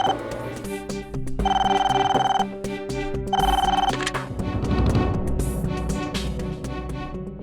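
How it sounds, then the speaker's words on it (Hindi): A telephone rings in bursts of a bright electronic trill, two clear rings over a dramatic music score in a CID crime drama office scene, loud and close. "फोन उठाओ"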